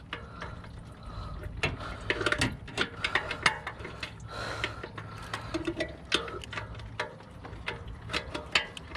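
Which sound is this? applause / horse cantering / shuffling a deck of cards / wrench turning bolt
wrench turning bolt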